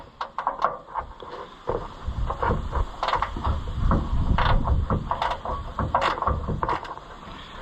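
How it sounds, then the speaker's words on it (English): A ratcheting wrench is worked on the radiator of an Oliver 1355 tractor, giving close bursts of quick clicking pawl strokes with short pauses between, and no one talking. "Let's just go get a ratcheting wrench and save ourselves the hassle."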